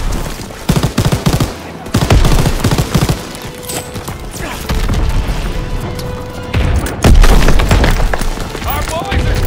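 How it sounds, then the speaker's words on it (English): A Call of Duty WW2 battle on Normandy D-Day: loud booming grenade and explosion blasts mixed with rapid bursts of gunfire, dense and chaotic, with shouting voices throughout. "Lobbing a grenade!"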